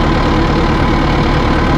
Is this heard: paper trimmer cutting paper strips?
no